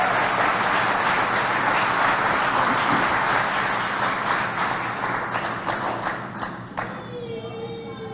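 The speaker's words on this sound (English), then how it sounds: "please give a round of applause to our very good friend" A conference audience applauding in a dense, steady burst of clapping that holds for several seconds, then thins out and fades as a voice begins to speak near the end.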